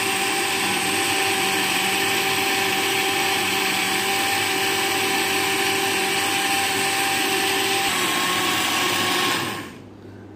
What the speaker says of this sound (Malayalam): ഇതൊരു 2 മിനിറ്റ് ഞാൻ ഇപ്പോൾ അടിച്ചിട്ടുണ്ട്